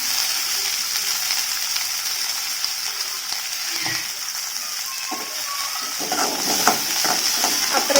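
Small shallots sautéed in a pan with curry leaves for a meat curry masala, giving a steady close frying sizzle with occasional stirring scrapes throughout, no talking.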